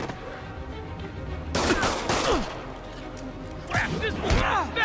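Enemy gunfire in the Spider-Man video game, with loud bursts of shots around the two-second mark and again near the end, over a constant game background and sharp ricochet-like sweeps.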